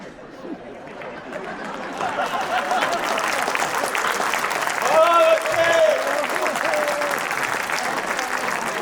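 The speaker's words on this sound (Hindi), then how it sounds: "ताली अगली बात पर है कुमार सर" Audience applause at a live Hindi comedy poetry (hasya kavita) show, steady clapping filling the room throughout with some crowd chatter mixed in.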